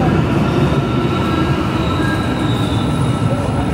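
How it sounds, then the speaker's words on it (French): An elevated metro train in Turkey rolls along with a loud, steady rumble and a rush of rail noise that fills the whole stretch, with faint wheel squeal and no break in the sound. "Voilà, ça c'est le métro."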